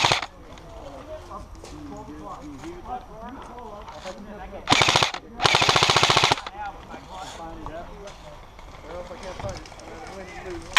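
Airsoft guns fire in rapid automatic bursts during a hostage-scenario game, two loud volleys around the middle of the clip, while players shout and talk throughout.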